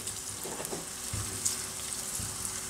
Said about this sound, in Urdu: تو 2-3 منٹ کے لیے پیاز کو فرائی کروں گا میں